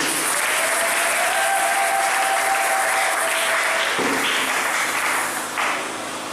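A church congregation bursts into sustained applause, a dense, loud clapping that fills the space and carries on for several seconds before easing off slightly at the end.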